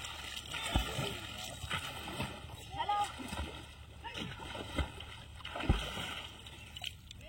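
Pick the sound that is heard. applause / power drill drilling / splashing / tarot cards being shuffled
splashing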